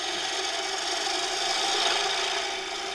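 A woodturning lathe tool makes a gentle cut into spinning wood on a succulent pot, a steady close scraping rasp that holds even for about three seconds and swells slightly near the middle.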